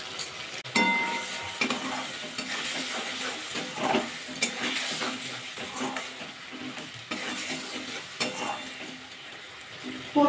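Poppy seed paste is stir-fried with spices in a pan, a steady sizzle broken by repeated scraping stirs and occasional clinks of a utensil, close and continuous.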